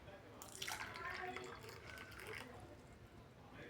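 Jaggery tea poured into a cup: a steady liquid trickle with light dripping, moderately close, running for several seconds with faint background noise.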